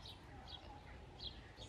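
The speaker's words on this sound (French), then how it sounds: "Non, c'est des oiseaux." Birds chirp faintly outdoors near water, with a few short, high chirps spaced about every half second over a soft, steady background hiss.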